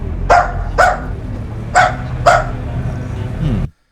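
A person imitates a dog barking: four sharp bark-like yaps in two pairs, loud and close over a low background hum, then a longer whine-like sound before an abrupt stop.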